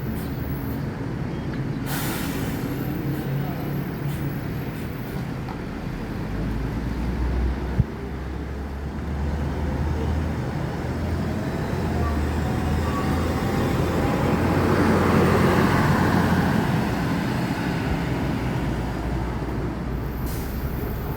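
A Gumarang Jaya intercity bus on a road in Sumatra goes past with a continuous low engine rumble and road noise, a brief hiss near the start, swelling as it draws closest midway and then easing off.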